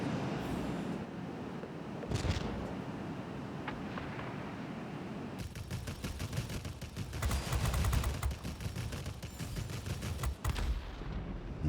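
Tank cannons in a video game firing in loud bursts over a busy battlefield din, with scattered single blasts early on and then a dense rapid volley of repeated shots.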